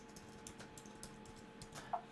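Password typed on a Mac keyboard, a quick run of faint, soft key clicks in an irregular rhythm, close and quiet.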